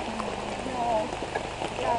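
Heavy rain pours down steadily over a woodland race course with tents during an ultramarathon, a dense continuous hiss with scattered drops and faint background chatter.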